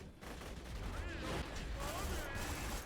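The Lascaux weapon fires in a video game wave fight, a loud, dense, sustained burst of rapid gunfire that fills the whole stretch without a break.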